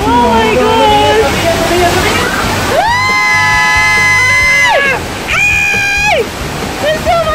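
Water gushes and splashes around a Universal Studios Hollywood studio tour ride, roaring steadily beneath riders' screams and excited chatter, with long rising shrieks standing out.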